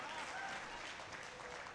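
Audience applause at a Hindi poetry recital, a faint, steady wash of clapping from a crowd lasting the whole moment, heard at a distance.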